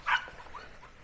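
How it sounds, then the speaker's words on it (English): A puppy gives a single sharp, high yip, followed by fainter whimpering, somewhat distant beside an RV where awning work is underway. "you can hear puppies in the background"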